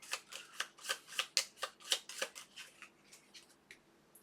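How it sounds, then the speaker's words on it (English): Playing cards for the Ezra & Nehemiah board game are shuffled in a close riffle-style run of crisp, rapid flutters, about a dozen quick bursts that fade toward the end, with no talking. "we should actually shuffle it into this deck"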